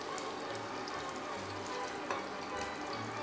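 Chopped onions frying in hot oil in a pot for Hungarian goulash give a steady, dense, close sizzle that hisses on without pause and with no talking.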